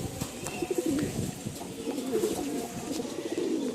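Pigeons at a Bengali pigeon seller's loft, including adult birds and young squabs, coo softly in a steady murmur of overlapping calls with faint chirps, close by and without talk.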